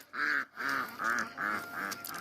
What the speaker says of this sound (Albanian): Ja pula det detit.